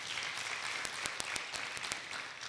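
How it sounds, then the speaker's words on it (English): Students and guests at a career expo applauding, a quiet roomful of clapping with several sharp individual claps standing out near the middle. "Let's clap ourselves because of that."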